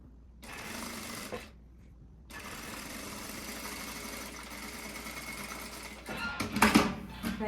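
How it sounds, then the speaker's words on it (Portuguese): A sewing machine stitches a blouse neckline in fabric, running in steady motor bursts with short pauses between, then a louder clattering stretch at the end; close and clear, with no talking. "vamos costurar todo o decote"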